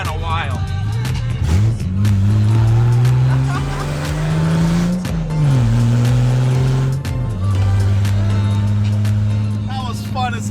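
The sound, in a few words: BMW E28 car being driven with headers and no exhaust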